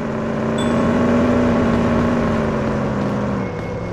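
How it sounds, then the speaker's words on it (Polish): Car engine in the driving game Police Simulator: Patrol Officers, a steady droning hum with a constant tonal whine that holds level, then eases off slightly near the end. "Ale ten silnik hałasuje normalnie."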